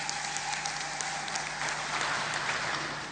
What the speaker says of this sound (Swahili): Basi tuwapigie makofi kwa wageni wetu.